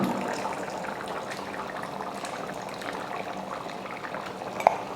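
Tamarind water pours into a fish curry in a pan, a steady close liquid splashing and bubbling throughout with a brief sharp clink near the end.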